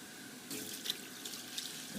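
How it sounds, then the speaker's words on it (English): Tap water runs steadily into a bowl of sushi rice being rinsed in a sink, a close, even hiss with faint splashes and drips and no voices. "Fill it up, and then draining it out, and then massage it, and then fill it up with water again."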